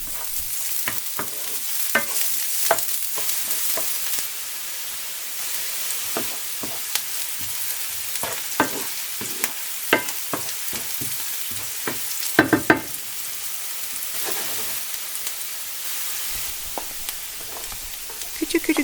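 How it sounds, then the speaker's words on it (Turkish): Chopped onions sizzling and crackling in hot oil in a pan, a steady frying hiss with frequent sharp pops and occasional stirring scrapes, close by. "İçerisine 2 tane küçük doğramış olduğum soğanı ilave edip soğanı şöyle 1 dakika kadar kavurdum."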